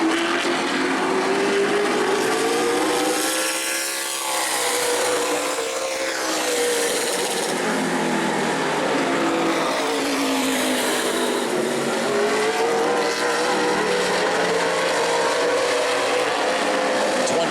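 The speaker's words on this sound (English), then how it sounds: "1W Wayne Parker, that car is still out there, but it's not running right." Modified race cars at a New Smyrna event roar continuously at high revs, with engine pitch rising and falling as they pass, one car running poorly among them.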